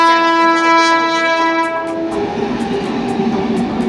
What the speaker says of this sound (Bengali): পাশ দিয়ে চলে যাচ্ছে ট্রেন।